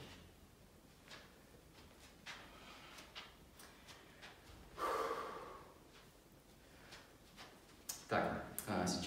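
Sharp, forceful breaths and gasps come every second or so during a home fitness workout, growing louder toward the end, with faint background noise and no talk.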